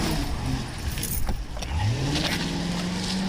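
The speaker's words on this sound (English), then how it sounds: "suspect just stole my vehicle" A police car pulls away after being stolen by a suspect, its engine and tyre noise swelling steadily over a constant road rumble, close and fairly loud with no talk.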